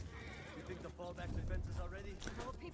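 A horse in the Ghost of Tsushima video game gives a clear whinny with hoof clip-clop nearby, while a voice talks over it.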